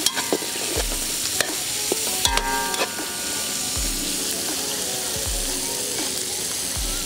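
Chopped onions frying in a pot for Haitian lalo make a loud, dense, steady sizzle, with a few scraping stirs and clinks early on, then an unbroken hiss and low repeated thumps beneath it.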